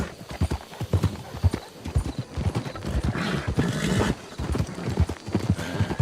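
Horses in a video game clop steadily on the ground in quick, uneven hoofbeats close by, with an agitated whinny midway and some faint voices underneath.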